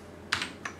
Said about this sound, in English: you press the Home button on your keyboard